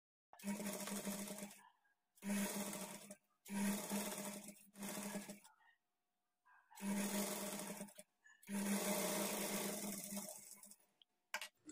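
A sewing machine stitches blouse fabric along a half-inch seam margin, running in six short bursts separated by brief pauses, fairly close.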